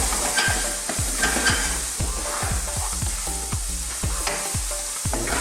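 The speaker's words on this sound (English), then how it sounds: "Let's drop our onions in. Let's drop our garlic ginger paste and our fresh chilies in there." Onions, garlic ginger paste and fresh chilies frying for an okra curry, a loud close sizzle punctuated by rapid rhythmic spatula clatters against the pan.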